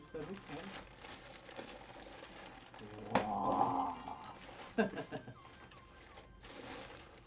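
Packaging of a Rampage X Fuse microphone is opened, with a sharp crackle and bursts of crinkling plastic or cardboard handling mid-clip, under quiet background noise.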